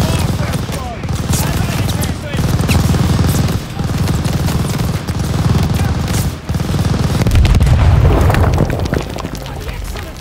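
Sustained machine gun fire rattles through Call of Duty: Vanguard gameplay, loud, dense bursts with booming blasts in a continuous barrage and brief lulls between volleys.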